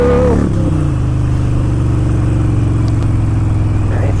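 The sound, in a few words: Harley Davidson Sportster 1200 motorcycle accelerating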